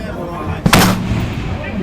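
A single rifle shot from a gas gun, fired from a low kneeling position at a 400-yard steel diamond target on an outdoor range, sharp and loud with a short echoing tail.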